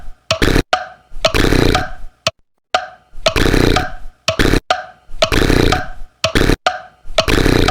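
A cartoon clock snores in a loud, repeated belch-like rhythm, with short bursts separated by brief silences.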